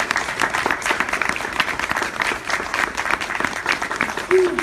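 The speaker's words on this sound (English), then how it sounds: "Huge round of applause for championing our community" Crowd applause at an honoring ceremony for a preschool program, a steady dense wash of many hands clapping at close range, with a faint voice briefly near the end.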